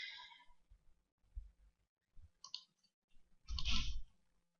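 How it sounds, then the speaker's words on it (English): A computer mouse gives a few soft, close clicks among quiet handling noises, with a louder rustling burst near the end and no talk. "Okay, double clicking it."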